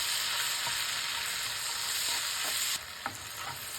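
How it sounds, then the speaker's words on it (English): Small tomato cubes sauté with cumin in a hot pan, giving a steady close sizzle with a few soft spatula stirs and taps, and the hiss drops slightly near the end. "Sauté until tomatoes are softened."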